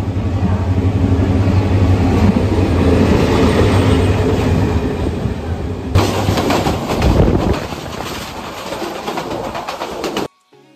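A train at Laksam junction rumbles loud and close with clattering wheels and carriage noise, shifting midway to a brighter rattling roar before fading out abruptly near the end.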